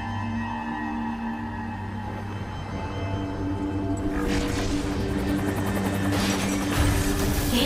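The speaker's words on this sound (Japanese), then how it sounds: "形状より目標物を解析。 運用ヘリと断定。" A helicopter in Metal Gear Survive drones steadily with a low rotor hum, growing louder and busier partway through as it seems to draw closer.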